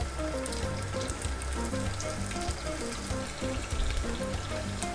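Garlic sautéing in hot oil for Kapampangan goto gives a steady, close sizzle throughout, with tonal background music running underneath.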